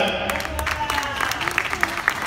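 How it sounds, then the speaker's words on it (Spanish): Audience applause for a performer at a live show, a moderate crowd clapping that builds toward the end while a voice talks over it. "reciban con un fuerte aplauso a Porfirio,"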